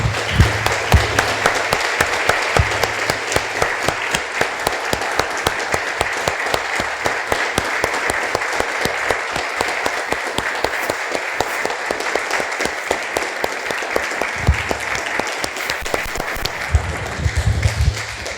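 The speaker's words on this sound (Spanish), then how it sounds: "Damos un aplauso, hermanos." A church congregation applauds after a prayer, a sustained, even roar of clapping from many people that holds steady and loud throughout, with faint voices surfacing here and there beneath it.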